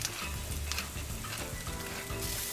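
Chili, onions and garlic sizzle steadily in a pan as an Italian-style sofrito fries, a soft continuous crackle with faint stirring and no talking.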